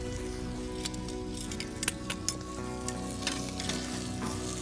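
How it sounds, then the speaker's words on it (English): Pork sausage sizzles in a skillet over a campfire for a breakfast skillet. The frying crackles loud and steady, broken by sharp utensil clinks and pops, and no one talks. "it is now time for me to put my sausage in it."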